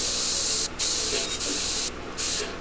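An airbrush sprays paint in short, loud hissing bursts, three or four blasts broken by quick gaps, close up and with no talking.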